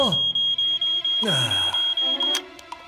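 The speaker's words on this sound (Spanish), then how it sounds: "Alarma probada, tío Sam." A cartoon smoke alarm being tested gives a series of about eight loud, evenly spaced high electronic beeps, with a few brief voice sounds underneath and after.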